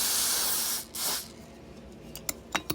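Cleaner spritzed from a spray bottle onto a towel while cleaning a Marx Commodore Vanderbilt toy train: two close, hissing bursts, a long one then a short one, followed by a few soft clicks and taps.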